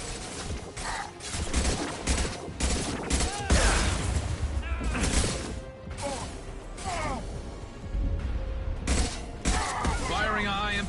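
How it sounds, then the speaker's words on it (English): High-impact gunshots in Mass Effect 2 combat, sharp blasts and mechanical clatter in a dense, loud stretch mixed with other battle noise, while a voice talks at times. "Firing a high-impact shot."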